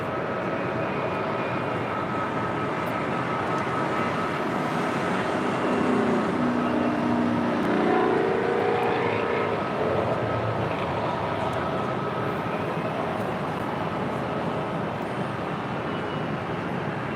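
An American Airlines Airbus A321 jet at LAX gives a steady, broad engine roar that swells slightly in the middle and then holds, heard from a distance with no talk.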